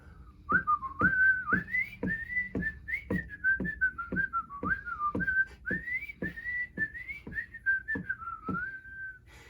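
A person whistles a lilting melody alone, clear and close, each note bright and sliding slightly in pitch.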